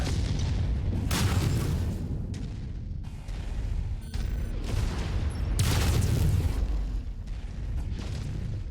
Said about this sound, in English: Drop some missiles on his noggin.